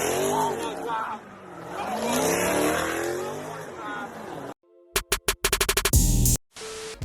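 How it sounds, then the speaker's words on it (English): A car drifting squeals its tires while the engine revs and roars, the sliding noise rising and falling in long sweeps under loud voices, followed by a stretch of choppy bursts of sound. "This guy is drifting like a champ."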